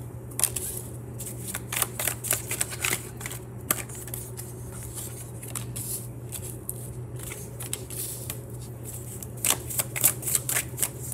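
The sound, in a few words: shuffling and pulling tarot cards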